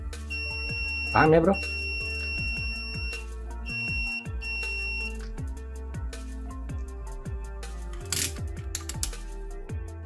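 Several short, high beeps from a continuity buzzer added to a DT830B digital multimeter sound on and off over a low electrical hum and clicking, with someone talking throughout.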